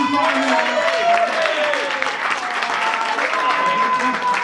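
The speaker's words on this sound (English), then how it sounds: "Round of applause for everyone who's just been on." Enthusiastic applause from a comedy rap battle audience, dense and sustained throughout, with cheers and voices mixed into the clapping.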